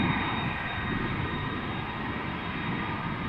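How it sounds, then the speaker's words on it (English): A Surinam Airways Airbus A330 airliner at Amsterdam Schiphol gives off a steady, distant engine rumble with a faint high whine, quiet and unbroken, with no voices. "So this is the SLM A330."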